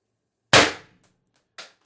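A CO2-powered 4x12g stock build air gun fires a single sharp, loud shot near the mic, with its burst decaying over about a quarter second, then a fainter short hiss or second burst follows a second later.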